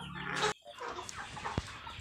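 Broiler chickens kept as backyard livestock cluck softly at feeding time, giving a brief, close, busy murmur of low calls.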